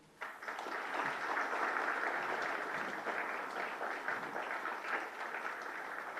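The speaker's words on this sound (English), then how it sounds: "Good round of applause" An audience applauds at a state formation day ceremony for Arunachal Pradesh and Mizoram with a governor presenting honours, a steady, dense round of clapping that starts abruptly and holds at full strength for several seconds without talk.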